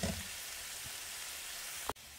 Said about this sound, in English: here to saute for a while